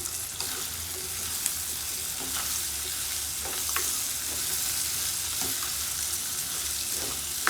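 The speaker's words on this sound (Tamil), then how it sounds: "ஒரு சின்ன தக்காளி இப்படி 4ஆக கீறிட்டு இப்படியே போடுறேன்." Tomato quarters frying with onion, garlic and ginger in a pan for mutton curry, giving a steady close sizzle with occasional stirring clicks throughout, no talk.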